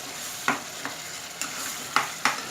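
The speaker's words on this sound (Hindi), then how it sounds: "मज़ीद इसको 2 मिनट गरम मसाला ऐड करके भून लें" Quail browning with garam masala and coriander in a hot pan: about five sharp stirring scrapes at irregular intervals over a soft, steady background sizzle, close by, with no voices.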